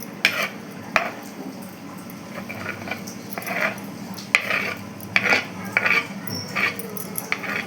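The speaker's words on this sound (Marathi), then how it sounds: "आता आपण चमच्यानं मिक्स करून घेऊया, हलवून घेऊया" A spoon stirs shikaran in a bowl, mixing in pieces of puri and chapati and dissolving sugar, with repeated light clinks and soft scraping in an irregular rhythm, close and moderately quiet.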